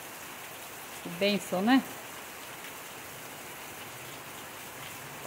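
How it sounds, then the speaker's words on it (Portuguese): Heavy rain falls steadily on surfaces outdoors in a dense, constant hiss that holds throughout, while one person speaks briefly over it. "Bastante chuva, bastante água."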